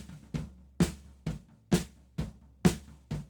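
Drums heard through the overhead track alone: sparse, evenly spaced hits about every half second, fairly quiet and dry, with cymbal wash on the stronger strikes.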